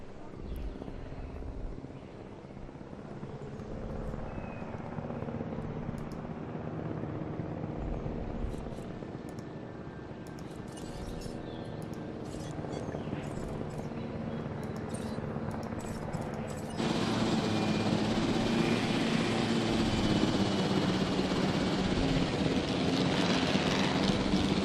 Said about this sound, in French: C'est plutôt cool qu'on peut piloter l'hélicoptère.